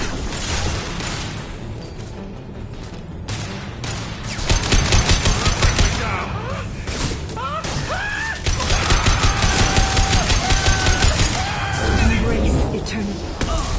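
Shotgun fire and heavy gunfire in a PS4 video game, rapid loud bursts of shots layered with booms and crashes across a busy battle, with voices talking over the noise.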